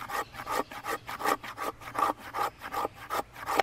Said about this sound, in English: let's see how that 90 degree spine scrapes after we put it through a little bit of abuse